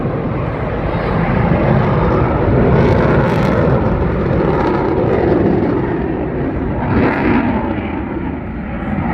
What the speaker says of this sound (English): It gives me great pleasure to introduce you to the 2022 Royal Air Force Typhoon display.